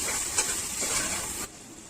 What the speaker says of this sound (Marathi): आता फोडणीमध्ये बटाटे आणि मटार मस्तपैकी फिरवून घेतल्यानंतर ते एकजीव होतील असे फ्राय करून घ्यावे